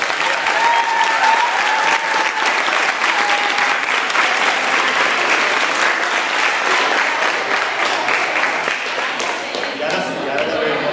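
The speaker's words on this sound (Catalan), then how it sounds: "un aplaudiment per tothom" Loud, sustained applause from an audience at a school classroom decoration contest, steady clapping lasting the whole stretch with a brief voice near the start.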